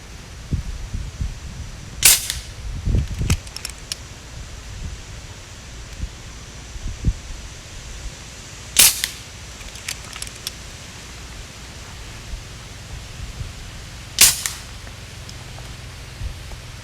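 Three sharp, loud shots from a custom 475mm FX Impact .25 air rifle firing pellets outdoors, spaced several seconds apart, each a crisp crack over quiet wind and rustling background.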